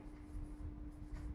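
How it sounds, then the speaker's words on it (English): Faint writing on a board during a classroom English grammar lesson, a soft, continuous scratchy rubbing under a steady low hum, with no voices. "So if I write now, for example, Uday"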